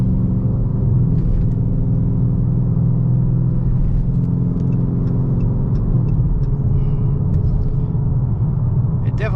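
A 5.7L Dodge Charger or Challenger V8 running in sport mode gives a loud, steady low rumble throughout, with no clear rev spikes and faint higher clicks over the drone.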